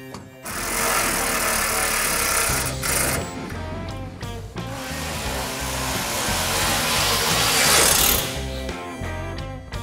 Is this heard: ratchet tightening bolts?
yes